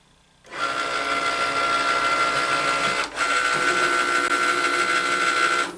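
A Cricut cutting machine with a rotary blade slicing a circle out of fabric gives a steady, close mechanical whir that starts abruptly, dips briefly midway and runs continuously to the end, with no talking.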